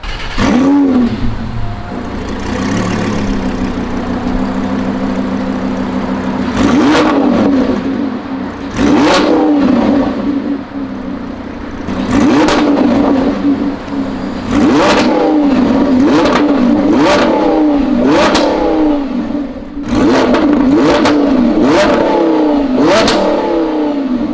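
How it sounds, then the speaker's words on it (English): A Lamborghini Huracan with a titanium Ryft exhaust revs hard again and again, its exhaust roaring up in sharp bursts with crackling pops between, loud and close. "I don't know of another exhaust that sounds better than this or even as good as this."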